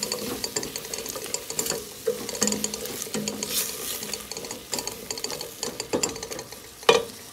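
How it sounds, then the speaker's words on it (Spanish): Chopped carrots tipped into a pot of vegetable soup and stirred, giving close, uneven scraping and knocking of a spoon against the pot, with a faint simmering hiss underneath and one sharper clack near the end. "Ahí le eché la zanahoria."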